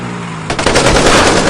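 Rapid machine-gun fire erupts after a short lull, a loud, dense burst of repeated shots that continues without pause to the end.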